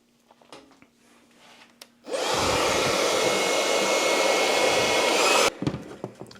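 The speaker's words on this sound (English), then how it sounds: "so we'll just use a hair dryer" A hair dryer blows hot air onto glue on a Glock 48 MOS pistol, a steady loud broadband whoosh switching on abruptly and running about three seconds before cutting off, with faint handling noises before and after.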